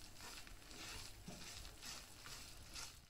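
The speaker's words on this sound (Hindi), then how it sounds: "मैदा और सूजी को यहाँ मैं फ्राई कर रही हूँ, फ्लेम इसका मैंने लो रखा हुआ है।" Semolina and flour frying over a low flame, a steady soft sizzle and faint crackle with light stirring scrapes, close and continuous with no voices.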